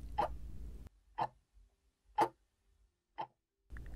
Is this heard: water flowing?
no